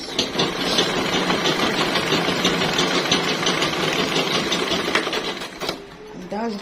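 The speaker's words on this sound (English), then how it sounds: "and continue sewing" A sewing machine hums continuously while it stitches the side seam of a top, loud and close, with a brief pause near the end.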